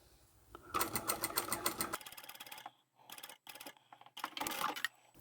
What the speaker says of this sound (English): So this is where I'm going to do my back stitch again, and then continue on to where I've started.